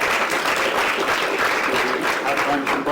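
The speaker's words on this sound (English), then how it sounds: "Can we give our speakers a round of applause?" An audience gives a round of applause for the speakers after an art talk on textiles, a continuous wash of clapping with voices mixed in.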